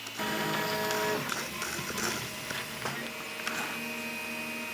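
A 3D printer runs a short test print, its stepper motors whining and buzzing in shifting tones with small clicks, steady and fairly close.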